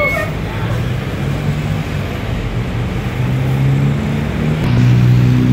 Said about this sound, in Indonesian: Masuk terminal ada bis Mustika AC Ekonomi dari Yogyakarta tujuan ke Semarang